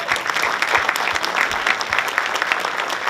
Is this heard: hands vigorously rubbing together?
no